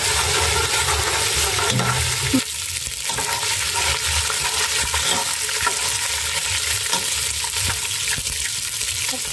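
Ginger paste fries in a pan on a home stove, giving a steady, dense sizzle that stays loud and constant throughout with occasional stirring clatter and no voices.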